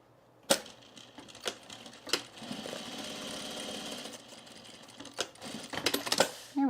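A sewing machine stitches a divider seam into a travel bag, a fast mechanical chatter running for a few seconds between sharp clicks and thumps, close up, with brief handling noises.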